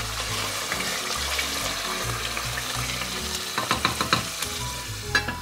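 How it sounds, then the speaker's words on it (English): Tomato puree for jollof rice is stirred in a hot pot, giving a steady close sizzle with a few sharper scraping strokes of the spoon toward the end. No one speaks. "Give it a good stir"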